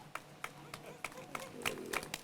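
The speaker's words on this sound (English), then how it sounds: "Yeah, a clap is appropriate." Sparse, evenly spaced hand claps from a small audience at the Wendy Park Bridge ribbon cutting, about one clap every third of a second, fairly close, with voices murmuring underneath.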